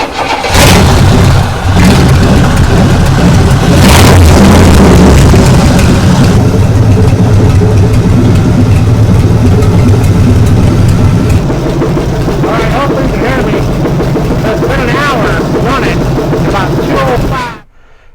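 A car engine starts and runs inside a garage, loud and steady for most of the clip with some revving early on, then cuts off abruptly near the end.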